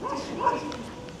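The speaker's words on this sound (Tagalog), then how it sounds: "Nagtatahol ang aso ni Marites ka na naman." A dog gives a short, close bark with a yelping, whiny edge, one quick burst with no clear talk over it.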